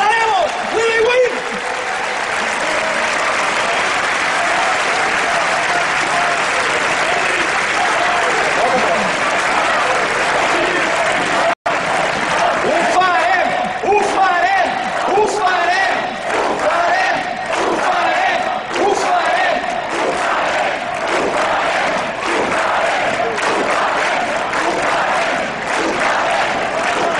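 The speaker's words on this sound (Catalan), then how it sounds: "Un fort aplaudiment" A large crowd at a political tribute rally applauds and cheers loudly and steadily for a long stretch, with shouts and chanting mixed into the continuous clapping.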